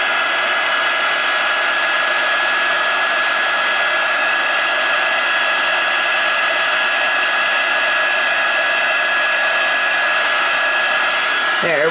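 A heat embossing tool blows a steady, loud whirring hiss of hot air over a card for the full stretch, with a faint clatter at the very end.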